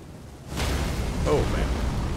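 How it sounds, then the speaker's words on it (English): In Elden Ring, a catapult-launched boulder strikes near the player at Castle Redmane, giving a heavy, rumbling boom with a whooshing crash that swells and lingers. The impact is loud and close, and someone talks over it. "Sniper accuracy from the catapults"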